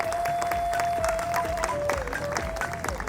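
Applause at an eighth anniversary celebration for Happy Faces in Vadodara, a loud crowd clapping steadily through a tonal background.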